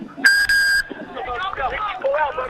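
During a Freetail 2021 rugby match between Gorilla and Raggamuffins, a referee gives one loud, shrill whistle blast, briefly broken, before crowd noise and commentary take over.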